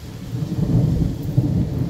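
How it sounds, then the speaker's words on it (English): Thunder from an approaching storm rolls over an orchard in the Dallas–Fort Worth area in May, a loud, low, sustained rumble with the hiss of rain beneath it and no voices. "We might be getting hit here too with more storms"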